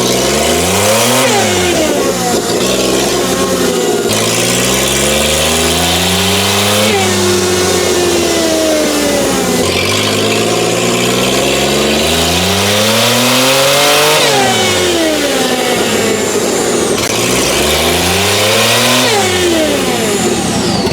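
A tiny truck engine fitted with a cheap aftermarket supercharger revs hard again and again, loud and close, each throttle blip rising and falling in pitch with a whining, buzzy edge through a continuous roar.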